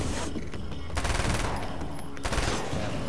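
Sustained gunfire in Alan Wake's American Nightmare: dense, rapid bursts of shots, loud and close, running continuously with no talking.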